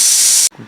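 A pressure cooker releases steam after its whistle while pudina bath cooks, a loud close hiss that cuts off abruptly, followed by a faint low thud.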